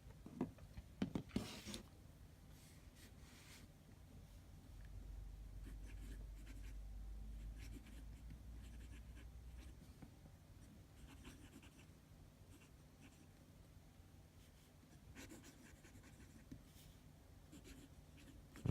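A Twsbi Eco fountain pen scratches faintly across paper in short strokes and pauses, close but very quiet, with a low background hum.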